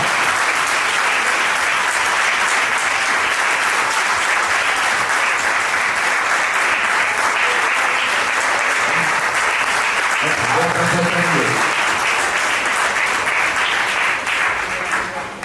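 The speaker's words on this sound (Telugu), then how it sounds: "సంతోషంగా ఉన్న వారందరూ కూడా గట్టిగా చప్పట్లు కొట్టి ప్రభుని కనపరుస్తున్నారు" A congregation at a New Year 2024 church service clapping loudly and steadily, a dense sustained wave of applause close by that fades out at the very end.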